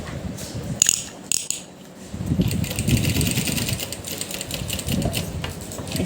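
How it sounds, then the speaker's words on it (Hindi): A sewing machine stitches along the edge of a V-cut neckline, running in bursts of steady mechanical whirring with short pauses and a few clicks between runs, close and fairly loud. "अब हम इसकी सिलाई लगाएंगे"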